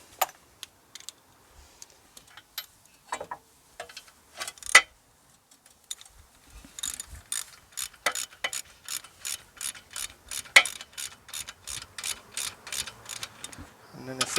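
Ratchet wrench working wheel hub bolts on a Mitsubishi 3000GT/GTO, a few scattered clicks at first, then a steady run of fast, close ratcheting clicks in even strokes.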